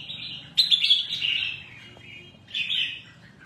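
A young, somewhat weak songbird sings bright, high chirping phrases in two bursts with a short pause between, clear and fairly close.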